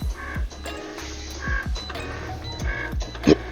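A Cricut machine cuts print-and-cut calibration lines, giving a steady mechanical whir with repeated sharp carriage sweeps and clicks at close range, with no voices.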